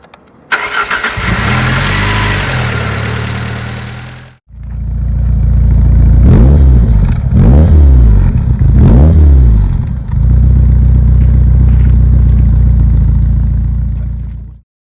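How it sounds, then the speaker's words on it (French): A Lancia Delta Integrale Evolution 2 cranks loudly for several seconds, fires up, then snaps through three quick revs before settling into a strong, close idle. "Alors je vais démarrer le moteur."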